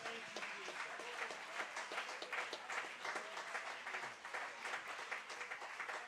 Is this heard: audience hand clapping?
yes